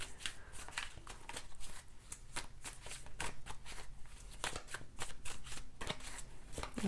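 Tarot cards are shuffled by hand in a quiet room, a run of soft, rapid slaps and riffles repeating steadily and close up, with no one talking.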